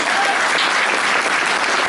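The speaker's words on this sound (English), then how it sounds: "a round of applause for all of our questions" A packed audience at a Doctor Who convention Q&A panel breaks into loud, thick applause, a continuous wash of clapping that fills the short moment without any voice over it.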